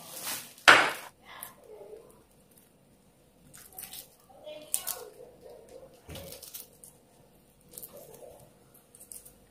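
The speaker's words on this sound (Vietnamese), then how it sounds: "Bây giờ đến tiết mục mình bóc trứng này." Boiled eggs being peeled by hand in a home kitchen while cooking braised pork with eggs: soft intermittent cracking, tapping and squishy rubbing of shell, with a sharper knock early on, close and fairly quiet.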